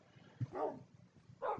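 Minecraft dogs in the video game give two short barks about a second apart, faint and close, with a thin whimpering tone.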